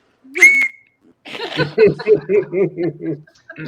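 A person whistles one short, piercing high note in imitation of a bosun's pipe, close and loud, followed after a brief pause by a burst of rhythmic chuckling laughter.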